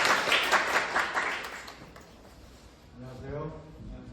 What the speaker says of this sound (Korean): 우리 큰 박수로 강연 듣도록 하겠습니다